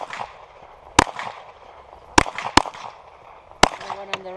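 Four sharp gunshots ring out at a three-gun shooting match, spaced irregularly over a few seconds and loud against a murmuring outdoor background, with brief voices heard around them.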